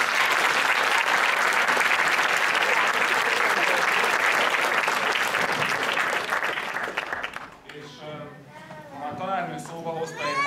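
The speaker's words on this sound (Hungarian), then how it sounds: "úgyhogy egy hatalmas tapsit." An audience applauds loudly and continuously at a folk music department Christmas concert, the clapping fading after several seconds as a voice begins talking.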